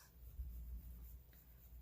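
A cream-coloured pencil colours in a giraffe in a colouring book, making a faint, steady, close scratching of lead on paper that lasts throughout, alone with no talk.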